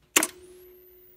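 A Polaroid Polaprinter slide copier fires its flash and shutter in one sharp, loud mechanical snap. A faint high whine from the flash recharging follows, with a steady hum underneath.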